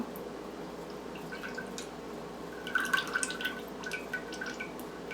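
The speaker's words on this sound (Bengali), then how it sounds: "ওভেন প্রুফ একটা বাটি নিয়ে সেটার মধ্যে দইটাকে ঢেলে দেব।" Yogurt being poured into an oven-proof bowl while making misti doi makes faint, soft wet plops and drips that cluster in the second half, heard close and alone over a quiet room.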